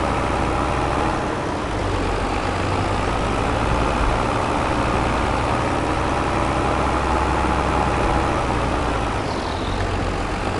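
A 300 horsepower four-wheel-drive manual tractor idles in Farming Simulator 22, a loud, steady low engine rumble that runs unbroken from start to end with no talking.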